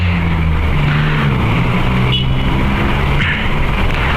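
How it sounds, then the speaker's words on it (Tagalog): Steady drone of city traffic heard from inside a moving car in Manila, a continuous low engine and road rumble with no breaks and no talking. "Pagod mag-drive sa ganito ka traffic."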